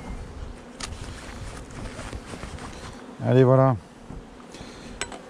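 Honey bees swarm around an open beehive as honey is taken from the boxes, a steady close buzz running throughout under a man's speech, with one brief louder tonal call near the end.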